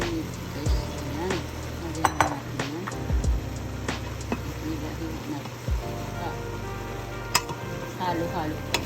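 Meat sizzling in a pan with carrots, a steady frying hiss with clinks and scrapes of a utensil stirring, while a voice talks over it.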